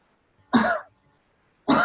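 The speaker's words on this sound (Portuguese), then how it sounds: "Foi tosse mesmo." Two separate coughs ring out close and sharp, each a short harsh burst with a throaty edge, with a pause of about a second between them in an otherwise quiet room.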